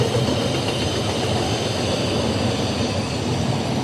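A freight train with juice cars and intermodal cars rolls past close by at a Georgia rail crossing, a loud continuous rumble with faint wheel clatter and no voices.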